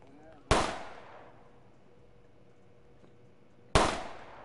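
Two loud, sharp gunshots ring out about three seconds apart in a shooter video game set in the Bronx, each decaying into a short echoing tail over low background noise.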